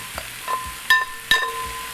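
Vegetables sizzle in a pan for fried sauce noodles, a soft steady frying hiss punctuated by a few sharp metallic clinks of a utensil against the pan.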